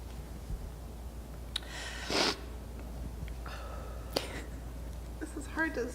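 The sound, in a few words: blowing nose through a face mask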